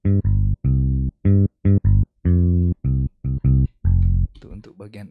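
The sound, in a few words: software bass sound playing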